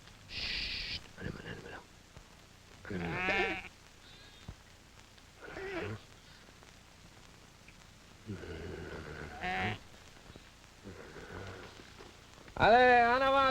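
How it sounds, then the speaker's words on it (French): Flock of sheep bleating in bursts, several calls scattered throughout with quiet gaps between, close and clear, a final loud bleat at the end; a voice is heard speaking among them. "Allez, en avant, les petits moutons, là, en avant."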